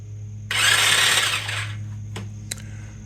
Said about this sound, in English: alright, let's hit that start button